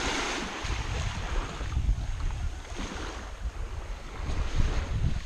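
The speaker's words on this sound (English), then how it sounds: "Today the sea is so good, the water is very clean and nice." Black Sea waves washing onto the shore at Sochi in autumn, a steady near surge of surf with low rumbling swells and some wind buffeting the microphone, no voices.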